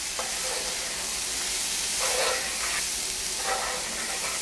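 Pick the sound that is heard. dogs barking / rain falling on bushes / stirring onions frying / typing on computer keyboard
stirring onions frying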